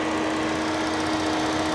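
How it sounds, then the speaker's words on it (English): A Corvette engine idles steadily, a constant close mechanical drone with a faint whine riding on top, holding even and unbroken the whole time with no talk over it. "The engine is on."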